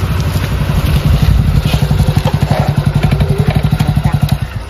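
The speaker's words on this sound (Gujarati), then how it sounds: "બાઈક લઈને દોડા દોડ." A nearby motorcycle engine thumps in a fast, even rhythm of putters, loud and close, with no talk over it.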